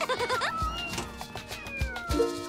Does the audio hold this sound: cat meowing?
yes